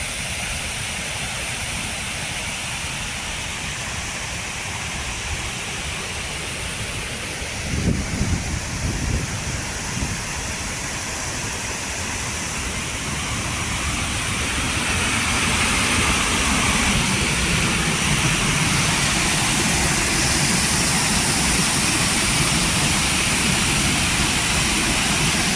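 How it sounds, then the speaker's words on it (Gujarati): A roaring waterfall in Portugal gives a dense, steady rush of falling water with no voices, swelling louder and fuller through the second half. "આનો પાણીનો અવાજ જ ભાઈ જોઈને આપણને તો ડર લાગે"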